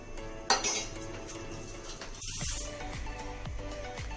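A metal spoon clinks repeatedly against a pan in a kitchen, with sharp scraping strikes and several evenly spaced taps over a steady background hum.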